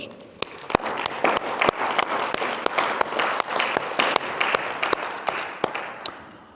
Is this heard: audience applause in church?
yes